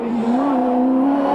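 A Bowen race car accelerating hard on the 1996 Mount Panorama hillclimb at Bathurst, a loud, close, sustained engine drone with a slowly rising pitch.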